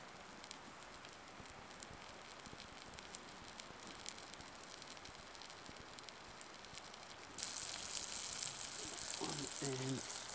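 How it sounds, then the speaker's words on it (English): Food sizzles in a hot pan at a solo tent camp in a rainstorm, a steady crackling hiss that swells louder near the end, with rain-like patter underneath and no clear talk. "This is nice and hot. Listen to the sizzle."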